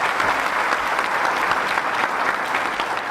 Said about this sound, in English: Please join me in giving a round of applause to the governor's staff.